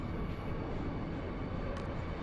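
A train moves in the Final Fantasy VIII video game, heard as a steady low mechanical rumble and drone that holds evenly for the whole short stretch, with no voices.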